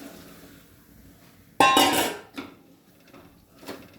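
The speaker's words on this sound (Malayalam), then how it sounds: "നന്നായിട്ട് ഇളക്കി കൊടുക്കണം." A metal spoon clatters against a pan while cooked chickpeas are stirred into softened onions for a curry, giving one loud scraping clank followed by a few fainter knocks over quiet background.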